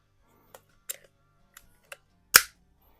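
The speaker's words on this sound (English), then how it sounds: "you can actually just lift it up to hear the click" Trigger of a Gamo PR-45 air pistol clicking in a garage, several sharp isolated clicks spaced apart, close and clear, ending in one louder snap.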